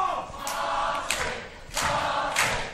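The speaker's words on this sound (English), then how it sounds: "Crowd getting behind Marty Scurll." A wrestling crowd cheers for Marty Scurll at an FWA New Frontiers show, with swells of loud cheering and chanting arriving in repeated waves, each burst surging and fading.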